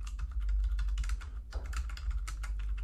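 Typing a Java doc comment on a computer keyboard, a steady close patter of quick keystrokes with brief pauses, no talk.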